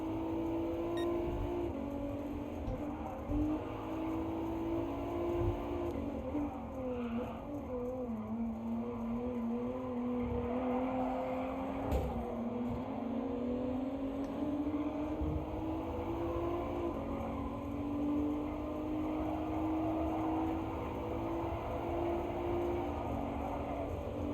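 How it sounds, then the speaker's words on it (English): Race cars racing in the video game Gran Turismo Sport, a sustained engine whine rising and falling with gear shifts, other engine tones layered underneath, steady and prominent with no talk. "Oh wow, these cars are really racing."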